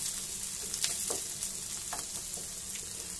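Chopped vegetables fry lightly in oil in a pan for fried masala idli, giving a constant soft crackling sizzle broken by a few small stirring taps, without any voices.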